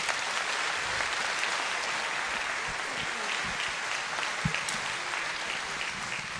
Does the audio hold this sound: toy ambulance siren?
no